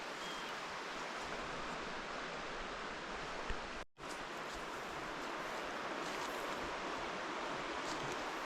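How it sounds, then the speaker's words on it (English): The Marengo River flows past, a steady broadband rush of moving water heard close and continuous, broken only by one brief cut in the middle. "Beautiful river."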